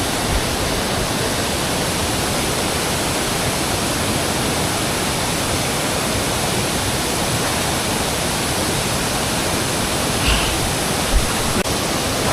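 Spring water pouring down like a waterfall, a dense and loud steady rush that continues unbroken, close up, with no voices.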